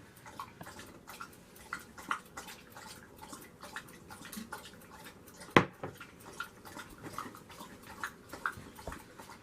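Soft, irregular wet clicks and slurps of a dog lapping water, close by and fairly quiet, with a few sharper knocks and no talking.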